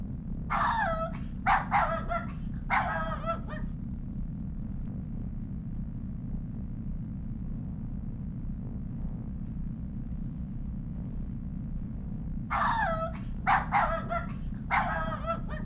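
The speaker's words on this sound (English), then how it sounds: "Oh, there's a doggy barking." A dog barks in the video game King's Quest 7, two short clusters of sharp barks near the start and again near the end, separated by a long stretch of quiet low ambient hum.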